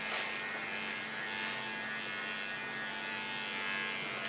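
Electric hair clipper with an ultra thin comb laid in front of its clipper comb, cutting ultra-short hair: a steady close buzzing hum running unbroken throughout, with no talk.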